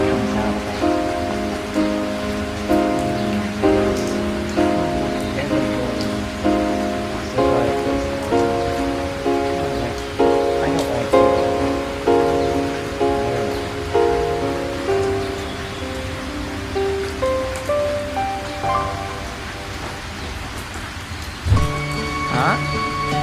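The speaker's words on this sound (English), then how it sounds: "most people say that the rain is relaxing" Rain falls in a steady, even patter that continues throughout, with a soft melodic music line playing over it.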